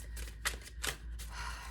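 A deck of angel oracle cards is shuffled by hand in a quiet room, several quick riffling bursts with soft rustling between them, faint and close, no talking.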